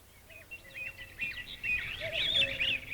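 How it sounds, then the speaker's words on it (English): Birds singing among the leaves of a forest, several overlapping chirps and warbling phrases, moderately near, growing busier toward the end over a soft background. "all the birds were singing blithely among the leaves"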